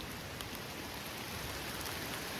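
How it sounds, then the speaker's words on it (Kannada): Heavy rain pours down at Donne Falls in Ankola, a dense, steady hiss of drops that fills the whole stretch evenly with no voices. "ಫುಲ್ಲು ಮಳೆ ಬರ್ತಿದೆ."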